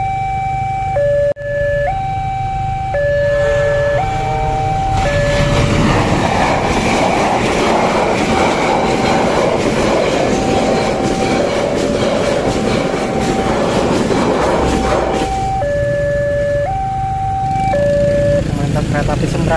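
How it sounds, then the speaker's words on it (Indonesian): Sembrani passenger train rumbles past at an Indonesian railway station with a loud, steady roar of wheels and carriages, preceded and followed by a repeating two-tone station chime, heard close with no talking. "Kereta api Sembrani yang menyusul KLB."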